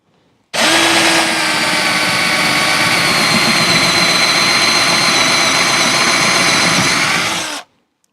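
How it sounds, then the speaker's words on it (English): A power drill bores a hole into a wooden crate, starting abruptly with a loud, close, sustained high-pitched whir that holds steady for about seven seconds before cutting off. "Now I'm going to go ahead and drill"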